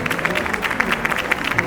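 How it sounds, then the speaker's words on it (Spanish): An audience claps for panelists at a presentation event, a steady burst of dense applause from a crowd filling the whole moment. "Les pido un aplauso nuevamente para nuestros panelistas."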